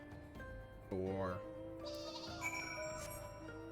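A sheep bleats in a video game, an online fantasy roleplaying game with chocobo mounts: two or three wavering, nasal bleats sound close and clear over soft game music and ambient tones.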